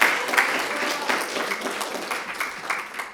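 At a youth policy fair in Goesan County, an audience applauds students who proposed installing trash bins, a steady round of clapping that gradually tapers off.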